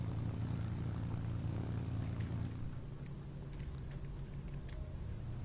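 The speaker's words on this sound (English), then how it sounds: "this plane takes a lot to rev up" A propeller fighter plane's engine in a flight combat game revs up slowly, a steady low droning rumble that holds loud and constant throughout with no talk.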